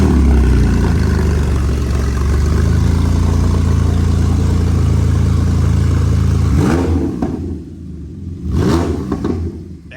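A Porsche engine cold-starts with a loud, high-revving roar that holds steady for several seconds, then drops sharply toward idle and blips again with a couple of brief rev surges near the end.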